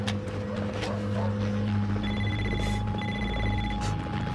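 A telephone rings in a tense police hostage scene, repeated electronic trilling bursts sounding over a low steady background hum, fairly loud and close, with no talk during the rings.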